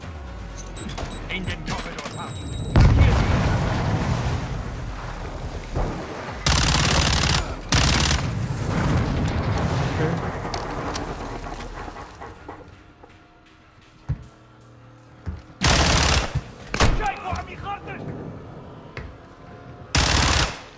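Bursts of rapid gunfire and single shots crack out intermittently, loud and close, amid Call of Duty: Modern Warfare campaign sound effects and occasional shouting voices in German.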